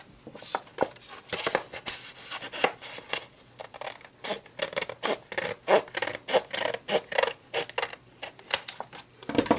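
A paper trimmer cuts through paper with a series of close, rhythmic scraping strokes, each a short rasping swish, repeating steadily and ending on a louder stroke.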